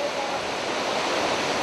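Blue Nile Falls, a large waterfall on the Blue Nile in the Ethiopian highlands, roaring as a steady, dense, full-band rush of falling water with no pauses.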